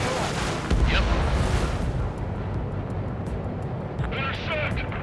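Anti-aircraft guns fire in the Ace Combat 7: Skies Unknown flight game, a dense rumbling barrage with booms and crackling bursts under loud radio chatter and voices throughout.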